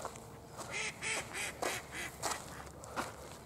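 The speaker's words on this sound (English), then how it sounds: "can you have a word to those ducks?" Ducks quack repeatedly in short bursts at a rural outdoor site, fairly close and steady over faint background noise.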